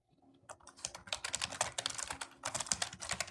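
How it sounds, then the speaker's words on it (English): Typing on a computer keyboard: rapid, irregular clicking keystrokes at close range, alone after a brief quiet start. "Yeah, I'm typing."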